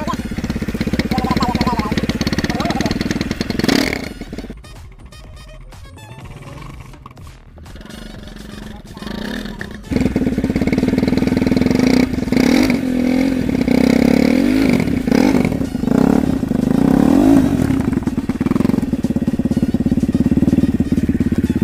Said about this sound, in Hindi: हम करने वाले हैं अभी मोटरसाइकिल को स्टार्ट।